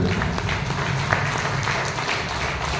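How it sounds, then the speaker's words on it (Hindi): Loud, dense applause from a large crowd, clapping steadily throughout without a break. "मैं चाहूंगा उनके लिए जोरदार ताली हो"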